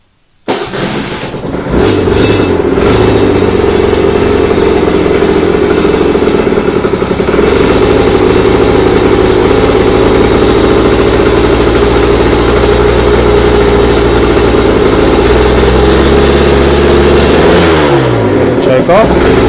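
A 2011 Aprilia RS125 motorcycle engine with choke applied starts up after a brief silence and settles into a loud, steady two-stroke idle close by, running continuously until a short dip near the end.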